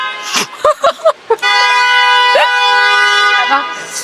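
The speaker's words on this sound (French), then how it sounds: "Ils ont klaxonné pour toi, je pense." A car horn blares in one long, loud, steady honk lasting about two seconds, right after a few quick spoken words.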